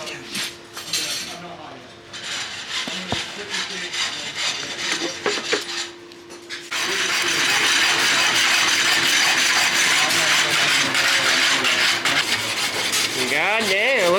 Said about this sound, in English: Got a lot of rasping to really polish them